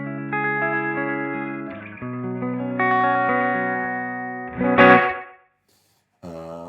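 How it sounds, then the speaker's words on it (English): An electric guitar plays through a Soundtoys CQ lo-fi EQ set to a thin, telephone-like tone, sustaining chords and notes with a brighter swelling burst near the end, a brief gap of silence, then a final chord. "it's meant to sound like it's through a telephone"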